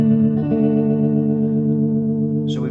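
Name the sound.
electric guitar through Vox AC30 amp vibrato channel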